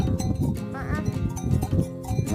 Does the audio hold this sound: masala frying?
no